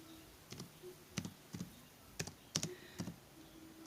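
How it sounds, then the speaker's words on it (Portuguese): Sparse keystrokes on a computer keyboard while a prompt for ChatGPT is entered, a few separate clicks spaced irregularly, quiet and close with no talking. "Aí é só a gente digitar gere a imagem"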